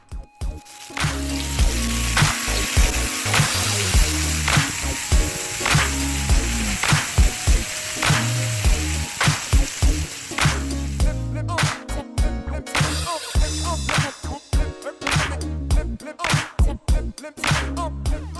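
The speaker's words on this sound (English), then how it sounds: "We put down another layer of peanut oil so we can fry our shrimp." Shrimp frying in peanut oil on a Blackstone griddle, a steady loud sizzle with sharp clatters of a spatula on the flat top, heard under background music that turns choppier toward the end.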